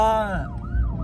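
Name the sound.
siren at SEMA Ignited parade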